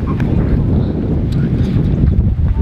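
Strong outdoor wind of about 30 miles per hour buffeting the microphone, a loud, steady, low rumbling roar throughout.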